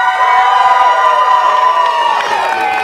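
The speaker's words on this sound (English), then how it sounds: "The crowd solidly behind Jason Strife." A wrestling crowd cheers for Jason Strife at a 3XW event, a loud, sustained roar of shouting and whooping voices that rises and swells throughout.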